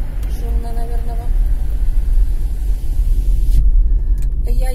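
Steady car road noise with an open window while driving: constant low rumble of tyres and wind at close range, fairly loud throughout, with a brief quieter dip in the upper hiss near the end.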